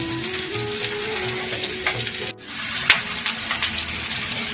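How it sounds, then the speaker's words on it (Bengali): Bitter gourd and potato fry in a pan with a dense, steady sizzle throughout, briefly cut off midway before the hissing resumes, close and loud with no voices. "করলা আর আলুটা আমি ভেজে নেব ভালোভাবে।"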